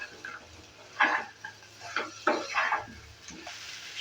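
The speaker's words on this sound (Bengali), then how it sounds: "আলু সয়াবিনটা দেওয়ার পর এভাবে করে একটু নেড়ে চেড়ে নিচ্ছি।" Potato and soybean chunks being stirred in a pan, with intermittent scrapes and clinks of a utensil against the metal at close range.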